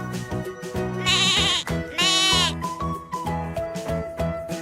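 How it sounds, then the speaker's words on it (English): A goat bleats in several loud, wavering cries over a steady musical backing, with the strongest bleats coming in two bursts near the middle. "Goat."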